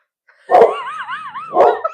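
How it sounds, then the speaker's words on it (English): A Chihuahua gives two sharp, loud, close barks with a whining, wavering whimper between them, with no talk. "she barked and it scared us"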